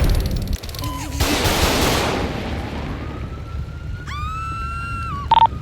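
Gunfire in GTA V with the LSPDFR police mod, a sharp burst of shots followed by a police siren wailing nearby, with a few short electronic tones at the end.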